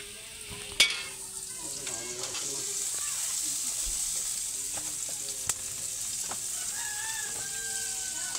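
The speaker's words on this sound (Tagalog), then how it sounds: "halo-haloin po natin guys para medyo kumalat po yung alamang" Pakbet mixed with shrimp paste being stirred in a frying pan, a steady sizzle with utensil scrapes throughout, a sharp clink early on and faint rooster crowing in the distance.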